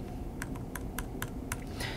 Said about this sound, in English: she can type her name using her keyboard